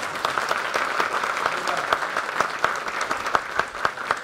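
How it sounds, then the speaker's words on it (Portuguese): Audience applause at a lecture about the Brazilian government recognizing UFOs; dense, sustained clapping from a roomful of listeners, fairly close and even throughout. "Esse é para eu bater palmas."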